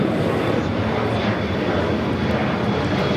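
A Southwest airliner arrives at Los Angeles LAX on runway 25 left, its engines a loud, steady, close roar that fills the whole short stretch without a break.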